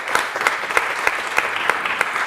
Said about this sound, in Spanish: ¿Por qué no le da fuerte aplauso a Dios?